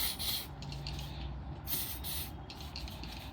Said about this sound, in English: So you can spray directly on the blue part